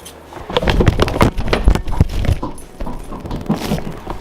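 A puppy whimpers and pants close by in a series of short, repeated yelps and whines with scuffling movement, fairly loud and without talk.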